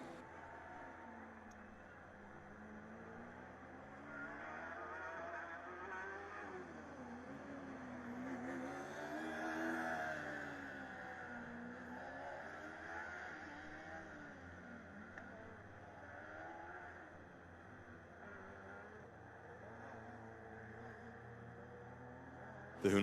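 A Formula Student race car engine revs and whines in the distance during an endurance event, its pitch rising and falling repeatedly as it accelerates and brakes around a coned track.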